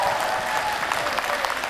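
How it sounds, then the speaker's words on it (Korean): Concert audience applause at a 2021 Hamyang wild ginseng anti-aging expo special concert, a brief, dense patter of many hands clapping with a voice faintly present beneath it. "박수 한번 더 주세요 여러분"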